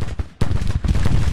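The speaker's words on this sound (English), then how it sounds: "I've got all of these brigades now firing." Massed musket volleys from infantry brigades in the Civil War strategy game Grand Tactician, a short loud crackle of overlapping shots that breaks briefly and then rolls on continuously.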